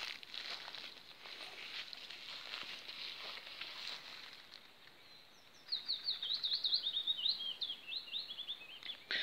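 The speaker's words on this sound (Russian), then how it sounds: "птицы поют" Small birds in countryside beside a narrow-gauge railway sing rapid, high chirping phrases in the second half, faint and somewhat distant over a soft hissing background.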